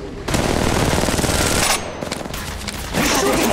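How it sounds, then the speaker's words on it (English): Automatic gunfire in the Apex Legends Mobile video game: dense, continuous bursts of rapid shots that dip briefly and then resume loudly, with no talking. "He's shooting at! Another squad is attacking us!"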